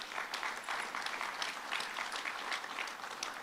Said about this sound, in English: Let's give a round of applause for Jilliana